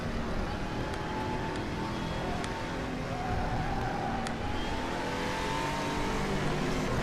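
Race car engine in RaceRoom Racing Experience accelerating hard, a loud steady roar with rising whine, faint voice at times.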